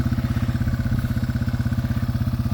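A Yamaha TW200 converted to a three-wheeler rides along after crossing a mud hole, its single-cylinder engine throbbing loud and close in a fast, even chug.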